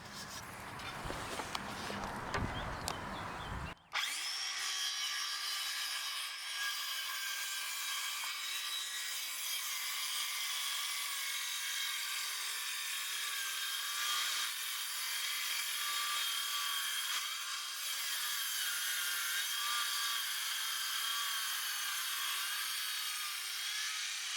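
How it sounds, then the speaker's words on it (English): Battery-powered circular saw ripping along a line through a thick wooden leg for a raised garden box bench, a continuous loud whining cut that runs after a short clattering start, with small periodic wavers in pitch. "reset your saw to its full depth, and then you can rip along this line"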